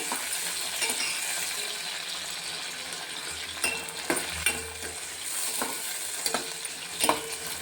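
Dried prawns fry in a pan for a bottle gourd curry, a continuous close sizzle broken by several clinks and scrapes of a utensil stirring against the metal.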